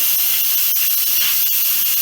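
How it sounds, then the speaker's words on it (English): Steam blasting steadily from an Instant Pot pressure cooker's release valve, a loud continuous hiss with slight fluttering pulses, close and alone without talk. "that's a lot of pressure, that's a lot of steam, a lot of force coming out"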